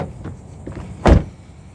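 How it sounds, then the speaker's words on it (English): A single solid door closing on a 2025 Toyota Grand Highlander Hybrid XLE SUV, a short firm thud heard close up after faint rustling, alone with no talking. "let's listen to the sound of the closing door"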